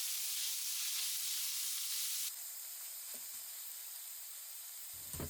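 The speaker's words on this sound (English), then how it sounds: "add the ground meat. Stir frying it over medium heat." Ground meat for mapo tofu stir-fries in flavor oil in a heated large pan over medium heat, giving a steady close hiss and sizzle that drops a little partway, with a faint stir near the end.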